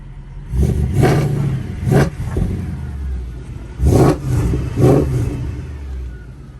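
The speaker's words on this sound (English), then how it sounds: "A couple more revs inside the cabin here." A naturally aspirated V8 engine of a Mercedes C63 AMG or BMW E92 M3 revs in several sharp bursts, roaring up and falling back to a low idle between them, heard from inside the cabin.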